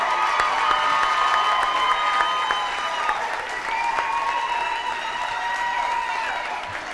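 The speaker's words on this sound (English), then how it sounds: "can we get one more round of applause real quick for my friend, teammate Coby Fleener?" Sustained studio audience applause at a talk show, steady and full for several seconds, the clapping swelling slightly then easing with a few cheers mixed in.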